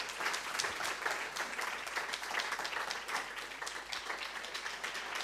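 An audience at a cultural evening applauds to welcome a museum curator and art historian, a steady, full room of clapping that holds evenly throughout.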